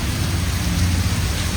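Heavy rain pours down steadily in a strong wind, a dense, loud, continuous roar with deep low rumbling and no voices.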